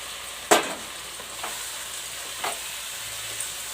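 Chicken pieces coated in salt, turmeric and oil go into a hot pan for sautéing. One sharp clatter as they land, then a faint sizzle broken by a few soft stirring scrapes.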